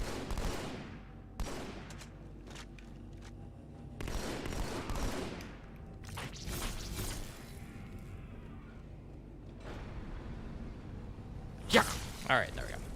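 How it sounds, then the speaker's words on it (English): Bursts of battle rifle fire in Halo 2: Anniversary crack out in short volleys amid game effects, with a player talking over the action. "I'm using a battle rifle"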